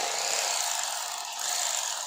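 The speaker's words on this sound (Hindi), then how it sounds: "इस मशीन से ये भाई साहब सिलाई कर रहे हैं।" Bag sewing machine stitching shut 25 kg bags of vermicompost, a continuous bright, buzzing mechanical whir that holds steady and close with no pauses.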